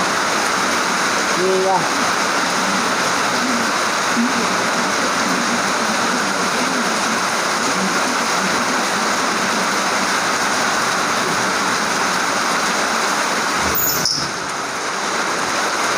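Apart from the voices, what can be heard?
heavy rain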